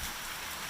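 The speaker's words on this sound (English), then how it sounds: "Just decided to rain right when we're about ready to leave." Steady rain patters on the ground on an early foggy morning on a long hiking trail, an even dense wash of drops with no pauses.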